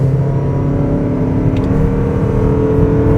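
A 2025 Mazda CX-50 Hybrid compact SUV in power mode accelerates hard, heard from inside the cabin as a steady, loud engine drone and whir that builds with the road noise.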